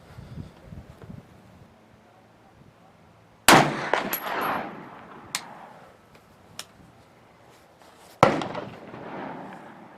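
Two loud, sharp gunshots from a .50 Beowulf rifle crack out at an outdoor shooting range a few seconds apart, each with a brief ringing tail, amid faint handling clicks and background noise.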